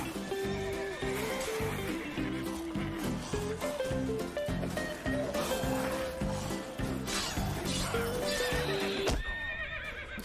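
A horse in The Witcher 3 video game whinnies loudly and repeatedly over clip-clopping hooves and a busy game soundtrack, continuing almost without pause before a sharp crash near the end.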